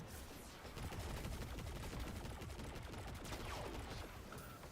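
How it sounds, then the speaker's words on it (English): Rapid, sustained bursts of medium-range machine gun fire in Destiny 2 Lightfall, dense and continuous across the whole stretch with a loud, steady rattle and no talking. "It's like a medium range machine gun."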